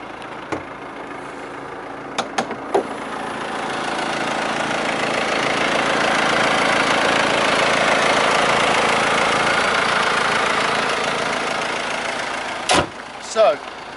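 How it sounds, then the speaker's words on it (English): Diesel 2.1-litre engine of a Mercedes-Benz E250 CDI AMG Sport coupe idles under the open bonnet, a steady mid-level hum holding for most of the stretch, with a few sharp knocks or clicks near the start and end. "Pop the bonnet. Have a little listen underneath."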